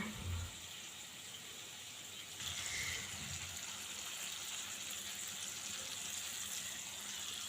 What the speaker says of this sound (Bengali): নাড়াচাড়া করে পরিমাণ মতো জল দিয়ে দেব।